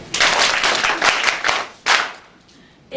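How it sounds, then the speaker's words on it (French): An audience bursts into applause, a dense, loud wash of hand clapping that swells and dips, cuts off briefly, then resumes in a short second surge near the end. "On va l'acclamer."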